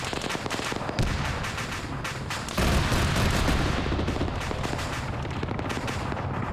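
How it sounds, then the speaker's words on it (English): A BTR armored vehicle fires its gun in a military video game, rapid repeated gunfire bursts running continuously, some shots closer and louder, with dense battle noise throughout. "You got this BTR now firing at dudes as they cross."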